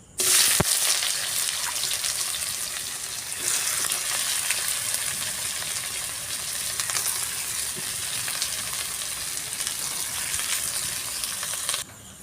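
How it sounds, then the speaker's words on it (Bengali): Onions sizzle steadily in hot mustard oil in a wok while being browned crisp for biryani, a loud continuous frying hiss with a clatter near the start and occasional stirring. "কড়ায় তেল দিয়ে দিয়েছি এবার পেঁয়াজটা বেরেস্তা করে নিচ্ছি"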